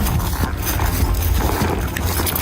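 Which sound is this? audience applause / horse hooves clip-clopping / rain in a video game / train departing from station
horse hooves clip-clopping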